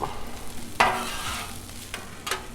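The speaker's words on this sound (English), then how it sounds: "Got about half a bag of these hash browns here. I got butter and oil already down. So let's mix it up." Half a bag of hash browns stirred into butter and oil on a Blackstone griddle: a steady close sizzle broken by a few loud spatula scrapes and pushes.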